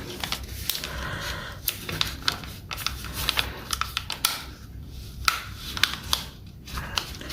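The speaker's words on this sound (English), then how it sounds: "We will take this corner, fold to the center crease." Paper is folded by hand to make a paper airplane, producing soft close crinkles, creases and sharp little snaps in an irregular rhythm.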